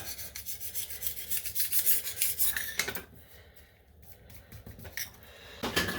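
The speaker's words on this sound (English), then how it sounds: "Just take a knife and scrape it all off." A knife blade scrapes old silicone off a porcelain toilet bowl, producing close, rough, repeated rasping strokes that briefly pause and then resume.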